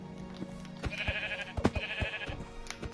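Two drawn-out sheep bleats from a blocky mining video game sound in quick succession, close and moderately loud, among scattered clicks and knocks of play.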